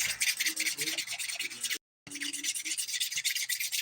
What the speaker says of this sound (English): I am going to use the 180 grit side to smooth